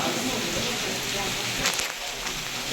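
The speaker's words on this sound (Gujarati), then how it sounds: "વરસાદ અત્યારે જામી ગયો ફૂલ" Heavy rain pours at Jatashankar on Girnar, a dense, steady hiss of drops on surfaces, loud and close, with brief disturbances near the middle.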